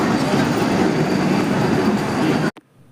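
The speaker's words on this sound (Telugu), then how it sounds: "ఇదిగో వందే భారత్ ట్రైన్ అప్పుడే వెళ్తుందండి" Vande Bharat train running from Hyderabad toward Tirupati as it leaves the station platform, a loud close rumble of wheels and carriages that cuts off abruptly near the end.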